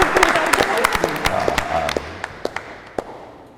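A game-show studio audience applauds after a team's score, a brief burst of many hands thinning into scattered individual claps as it dies away, with voices mixed in.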